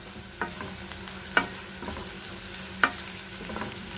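Mixed vegetable curry stir-frying in a pan, a low sizzle with a few crisp spatula clicks and scrapes spaced irregularly.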